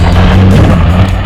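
An off-road vehicle's engine roars loud and close as it accelerates through a turn, a steady heavy low drone held for just over a second.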